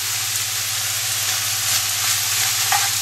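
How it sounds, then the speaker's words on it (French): Onions and garlic fry over medium heat in leftover olive oil and meat juices in a pan, giving a steady, close sizzle and crackle with a low hum underneath, no voices. "Faire fondre les oignons et l'ail dans le jus donc de la viande avec le restant d'huile d'olive."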